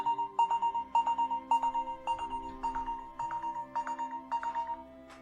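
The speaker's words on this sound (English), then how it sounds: "And I'm getting a phone call" A phone ringtone for an incoming call plays as a repeating electronic melody of short bright tones, sounding in regular bursts with brief pauses between them, moderately loud and clear, with no talking.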